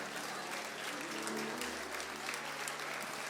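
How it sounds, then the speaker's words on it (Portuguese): Wedding guests applaud a newly married couple at the ceremony, a steady, distant wash of clapping from a crowd that holds even throughout, with a voice faintly heard beneath. "vamos aplaudi-lo, senhoras e senhores."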